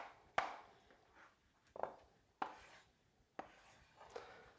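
A knife slices halved, pitted ripe avocados into half-inch pieces, giving five quiet, sharp cuts spaced about a second apart with no talking.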